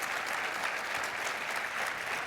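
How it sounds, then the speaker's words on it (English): Audience applause at a university association's annual meeting closing session, a dense steady wash of many hands clapping throughout the short stretch. "Let's give Erwin a round of applause."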